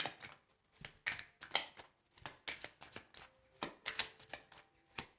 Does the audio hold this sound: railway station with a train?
no